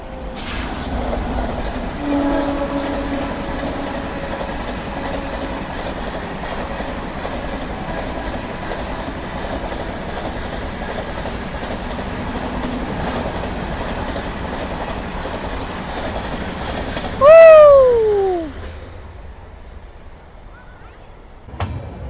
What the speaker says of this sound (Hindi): द मुंबई राजधानी गैंग जो है वो हमको ओवरटेक करके निकली है